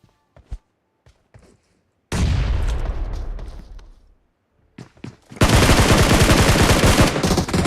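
Gunfire from a battle royale video game match: a few isolated shots, then a sustained loud burst of rapid fire, a pause with scattered shots, and another dense, continuous volley near and loud, no talking.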